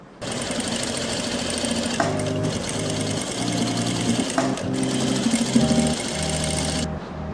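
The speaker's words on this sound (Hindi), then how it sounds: "और आपने आधा इंच छोड़ के सिलाई लगानी" Sewing machine stitching a seam on a salwar, running steadily and loudly for several seconds with brief pauses and changes in speed, no talking over it.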